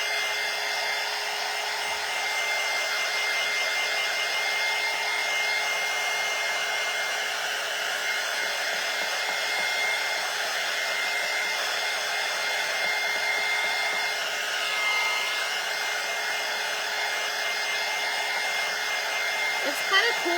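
A heat tool drying Tim Holtz watercolor inks blows as a steady, loud whirring hiss that carries unbroken through the whole stretch with no talk.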